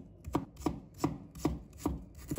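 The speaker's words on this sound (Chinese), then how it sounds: "再切成丝" A knife chops fresh ginger into thin strips on a cutting board, six or seven sharp, evenly spaced knocks in quick succession, close up and alone without talk.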